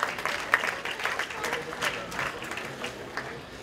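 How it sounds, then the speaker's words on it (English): Audience applause at a community event in Alberta, a steady patter of clapping hands from a crowd at moderate distance, fairly even throughout with soft voices mixed in underneath. "please give yourselves a round of applause"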